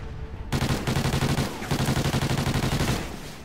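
Vector submachine gun from a Call of Duty: Ghosts multiplayer match, fitted with a red dot sight and muzzle brake, firing two long rapid-fire bursts of tightly spaced rattling shots that sound close and loud, with a brief pause between them.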